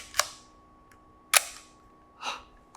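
A Leica M6 TTL film camera fires its shutter at a fast speed, three crisp close mechanical clicks spaced about a second apart, the last softer, in a quiet room with no talk.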